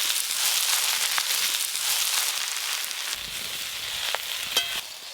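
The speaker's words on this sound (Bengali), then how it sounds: "এইভাবে নাড়তে নাড়তেই শাকগুলো কমে অর্ধেক হয়ে যাবে" Sushni greens fry with potato and onion in a pan, giving a steady bright sizzle with occasional stirring scrapes and clicks, fairly close and continuous.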